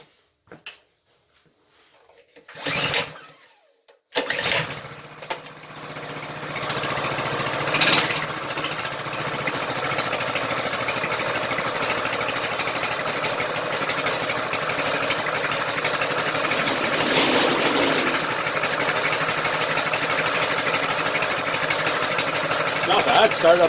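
Coleman BT200x mini bike small engine after a carburetor swap, pulled over twice before catching, then settling into a steady buzzing idle that runs on, with a person speaking over it.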